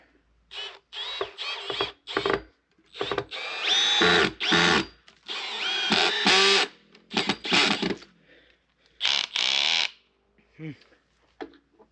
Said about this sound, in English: Took the wrong drill too